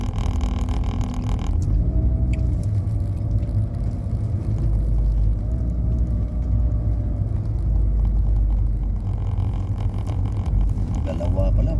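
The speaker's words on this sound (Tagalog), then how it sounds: "Mga 40 footer na mga container dito dumadaan." Heavy 40-foot container trucks pass along a busy road, a loud low engine rumble and tire roar that swells and shifts as the big rigs go by, with a brief higher whine partway through.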